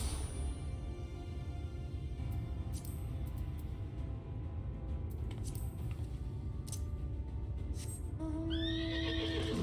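A horse in Final Fantasy XIV gives a bright, rising whinny near the end, heard over a steady bed of game ambience and music.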